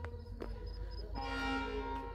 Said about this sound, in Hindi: ट्रेन का हॉर्न बज चुका है